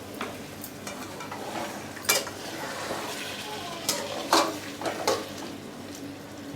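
A spoon stirs chicken curry in a pan, with scraping and clinks of metal against the cookware over a soft background sizzle, several louder knocks scattered through.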